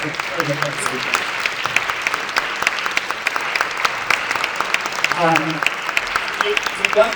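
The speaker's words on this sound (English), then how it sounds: "we'll give them another round of applause" An audience claps steadily, a crackling mass of hands, with a few voices faintly audible underneath.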